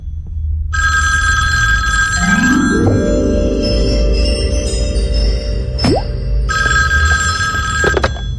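A telephone rings in two long electronic trilling bursts, loud and close, separated by a pause filled with tonal music and a brief rising swoop.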